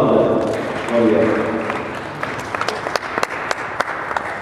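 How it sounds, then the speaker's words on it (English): Applause and scattered clapping from a crowd for Dr. Patrick at a Crownpoint gathering, thinning out as it goes on, with loud, sharp individual claps near the end. "Let's give him a round of applause"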